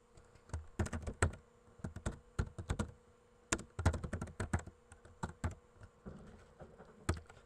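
Fingers tap quickly on a computer keyboard, a close, fairly quiet run of irregular clicks in short bursts with brief pauses between them.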